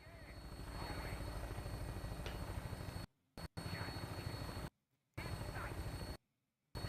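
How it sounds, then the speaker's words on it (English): A helicopter in the video game Fallout 76 gives off a steady, near rotor thump and engine drone. It cuts out briefly into silence three times and resumes at the same level each time. "Okay, I'm on the helicopter with you guys."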